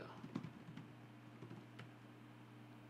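Someone types on the keyboard of a Lenovo IdeaPad laptop with a Ryzen 5 5600H and RTX 3050 Ti. Soft, faint, irregular key taps sit over a steady low hum in a quiet room.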